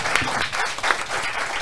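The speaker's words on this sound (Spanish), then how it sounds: "Parece el aplauso" Short burst of studio audience applause during an Argentine live-streamed radio show, steady dense clapping at moderate level with a couple of brief louder swells.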